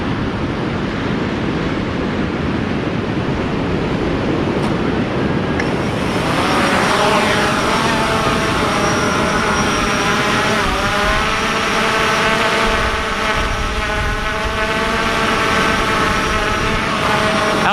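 A Hubsan Zino 2 drone spins up after wind-blown outdoor noise, its rotors rising into a loud, steady tonal whine with wavering pitch as it lifts off and holds a hover close by.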